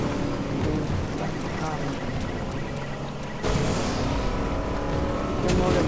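Motorboat engine in the Fortnite video game, a steady broadband drone that surges louder partway through and keeps running to the end, with muffled talk faintly underneath.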